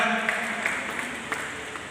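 An audience applauds at a memorial ceremony held at Bal Bhavan for Babu Balmukund Gupta's 116th death anniversary, a continuous, moderately faint patter of clapping with a few sharper claps and faint tonal ringing beneath.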